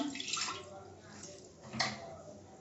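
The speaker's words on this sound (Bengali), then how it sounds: "এবারে প্রেসার কুকারে জল দিলাম" Water pours into a pressure cooker for a Karnataka-style vegetable sambar, a soft splashing gush heard under a voice.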